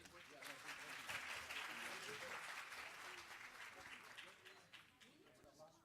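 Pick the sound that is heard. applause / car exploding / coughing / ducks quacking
applause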